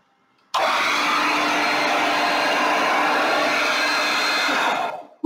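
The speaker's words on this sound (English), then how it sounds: "Okay, so I'm going to turn on the hairdryer now." A hair dryer blowing poured purple acrylic paint switches on abruptly and runs as a loud, steady close-up whoosh for about four and a half seconds, then cuts off, with no talking.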